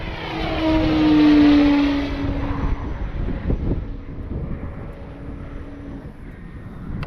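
An E-flite Carbon-Z T-28 radio-controlled warbird flies past on a windy day, its electric propeller whine rising to a loud close pass, falling in pitch with a Doppler sweep, then fading into a steady distant drone with gusty rumble.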